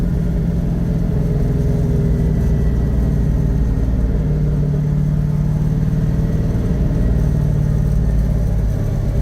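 A 1969 Ford Mustang's big engine rumbles steadily while driving with a 4-speed, a deep continuous drone heard from inside the car, with small shifts in pitch as speed changes.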